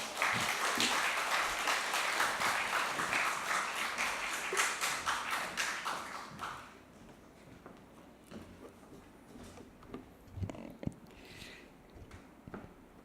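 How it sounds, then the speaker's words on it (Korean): Church congregation applauding to welcome a pastor to the pulpit, a warm wave of clapping that fades out after about six seconds, then scattered faint taps, shuffling and footsteps in a quiet hall. "우리 이진희 목사님 나오실 때 격려와 환영의 박수로 맞이해 주시면 감사하겠습니다"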